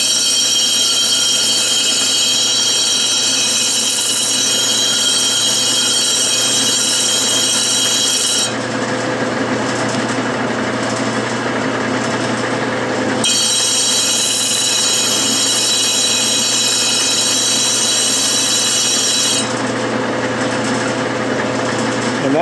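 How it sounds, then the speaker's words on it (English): A disc sander grinds a metal part for a Stuart model steam engine, a steady loud motor whir with a harsh high-pitched rasping during two long stretches of sanding and a lower running hum between them. "I'm just going to use this disc sander"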